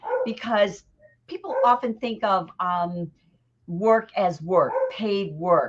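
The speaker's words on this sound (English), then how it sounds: "So you can hear my dog in the background there." A dog barks and whimpers in the background of a home setting while someone talks continuously about job interviews, the dog's sounds sitting beneath her voice.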